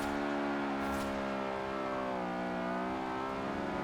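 Honda Prelude with a VTEC engine in the racing game Forza Horizon 4, heard as a sustained, steady engine drone with strong harmonic tones holding a fairly even pitch, loud and close with no talking.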